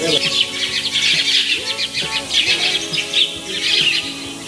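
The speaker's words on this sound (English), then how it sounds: "Birds were chirping all around." Birds chirping in the early morning in a village in Gujarat, heard as many bright, overlapping chirps and trills all around, steady throughout over a soft background.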